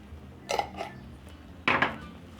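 Spaghetti garnished with green onions and sesame seeds stirred with a utensil, giving two short clusters of scraping, clinking contacts against the pan or dish, close and moderately loud with quiet gaps between.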